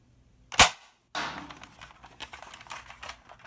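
A single sharp, loud snap from a modified twin-spring Nerf Alphahawk blaster firing, followed by a burst of rustling and light clicking handling noise nearby.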